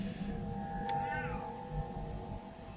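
A pet cat lets out one drawn-out meow with a rising and falling pitch, faint and close, over a steady background of video game sound with no voices.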